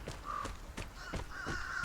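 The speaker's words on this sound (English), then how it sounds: "there's crows." Crows cawing in the video game Vigor, a few harsh calls spaced out over quiet ambient background, moderately distant.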